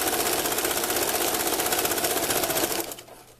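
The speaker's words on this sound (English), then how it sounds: "Then we go ahead and sew it." A sewing machine runs loud and close at full speed, stitching a quilt block in one continuous fast mechanical rattle that stops abruptly near the end.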